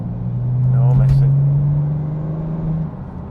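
A tuned BMW 430D with an N57N diesel and upgraded turbo pulls hard from a light throttle tip-in, its deep engine drone rising and holding steady close by, with brief road whoosh and no one speaking.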